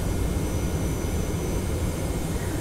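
Jet airliner engines drone with a steady, broadband roar as a TFDi Design 717-200 descends on autoland in a flight simulator, and the roar stays constant and close without voices.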